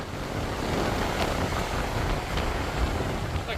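Wind gusting on a coastal trail, a broad rushing roar buffeting the microphone with surf-like swells underneath, continuous and fairly loud.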